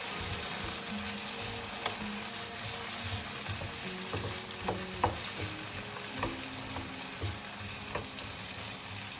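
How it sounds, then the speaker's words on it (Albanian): Potato cubes fry in a little oil in a pan over medium heat, giving a continuous crackling sizzle with scattered clinks and clatters of stirring. No one speaks. "Vazhdojmë t'i skuqim në temperaturë mesatare."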